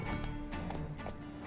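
A horse named Roach galloping in the video game The Witcher 3, quick rhythmic hoofbeats drumming steadily at close range over game ambience.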